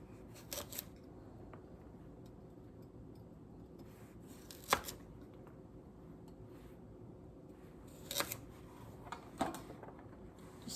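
A kitchen knife slicing thin rondelle discs on a cutting board, heard as a few sharp, close taps spaced out over a quiet background.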